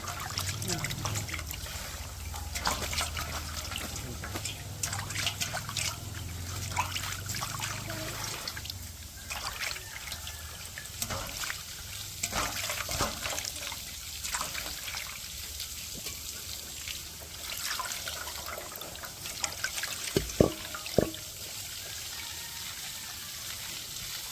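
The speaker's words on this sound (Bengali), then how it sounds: "এবার আমি ধুয়ে নিব" Tap water runs steadily in a close trickle over freshly cut crab pieces being washed in a kitchen, with faint handling knocks and a couple of sharp clinks near the end.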